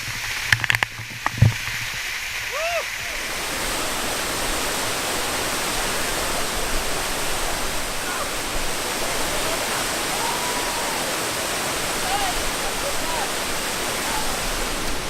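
A steady, close roar of falling water at Little Dunn's River waterfall in Jamaica fills the scene after a few brief handling bumps at the start, with no talking.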